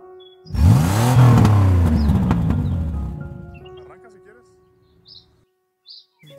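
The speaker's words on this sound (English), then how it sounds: "C for car." A car engine revs up hard with a loud, close, rising roar that slowly fades over a few seconds. Faint bird chirps follow once the engine dies away.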